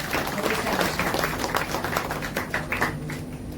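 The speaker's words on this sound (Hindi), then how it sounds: "हम लोग सम्मान की तालियां उनके लिए अवश्य लगाएं" An audience at a literary event applauds in honour of a guest, with dense, fairly loud clapping that thins slightly toward the end.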